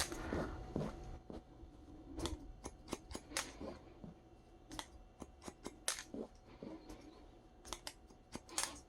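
Scissors snipping through hair during a men's dandy haircut, a run of sharp, quick metallic cuts at an irregular rhythm, close and fairly quiet, with no talking.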